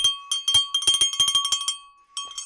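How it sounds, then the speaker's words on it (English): A small bell is struck in quick, uneven bursts of bright metallic rings, loud and close, with a faint steady tone beneath and no voices. "I gotta find the bell. Let's get the bell going."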